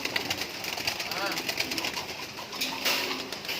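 Pigeon cooing from a young bird of imported Dutch stock, close and fairly loud, with faint chirps and a voice talking over it.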